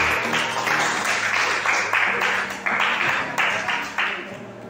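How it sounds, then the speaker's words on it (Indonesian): A classroom audience applauds a student group after their presentation, sustained clapping from many hands that holds loud and steady throughout. "Tepuk tangan untuk kelompok 4."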